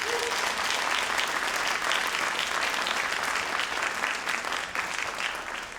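Audience applause at a Sankofa celebration, dense and sustained clapping from a large crowd, loud and even throughout before tapering slightly at the end.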